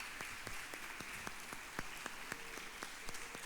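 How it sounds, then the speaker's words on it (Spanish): Applause from a church congregation: a faint, distant patter of many hands clapping, with a few sharper individual claps standing out irregularly, sustained throughout without talk. "Demos un aplauso al Señor por él"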